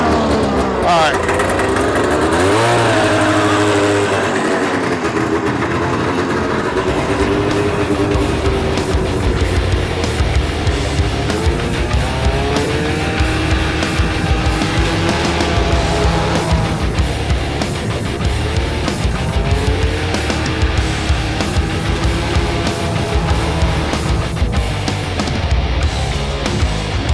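A homemade racing lawn mower engine runs loudly and continuously, its pitch rising and falling with the throttle, with voices talking over it.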